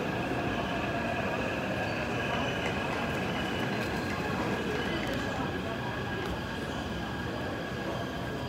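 A Taipei Metro train arrives at Main Station, its steady rumble and rolling wheel noise filling the underground platform with a constant, even roar. Faint tonal hums and chimes sit above it, with no clear talk.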